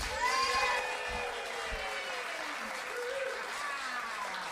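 A comedy club audience claps and cheers to welcome a comedian onto the stage at a Friday night live show, giving steady, dense applause throughout with a few shouts mixed in.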